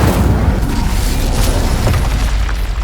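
An Incendio fire spell blast in Hogwarts Legacy, a loud continuous roaring whoosh of flame with a dense low rumble, holding steady for nearly three seconds.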